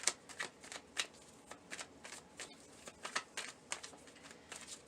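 Tarot clarity cards are shuffled by hand in a steady series of soft, papery riffling bursts, close and quiet, with no voices.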